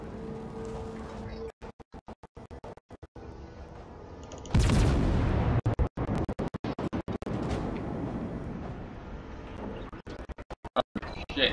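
Heavy naval gunfire and shell blasts in World of Warships, a sudden loud boom midway followed by rumbling explosions, with quieter crackling bursts before and after, the sound repeatedly cutting in and out.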